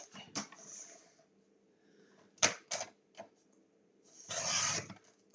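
Harry Potter stickers being cut for scrapbooking, a few short crisp snips and scraping rustles close by, separated by quiet gaps, with a longer rough burst near the end.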